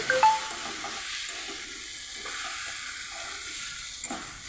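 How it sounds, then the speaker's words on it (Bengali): Small fried fish being stirred into a pan for a Bengali chorchori with green tomato, giving a steady soft sizzle and hiss with faint scraping of the spatula. "এই মাছগুলো দিয়ে দিচ্ছি। এই মাছগুলো নাড়াচাড়া করে"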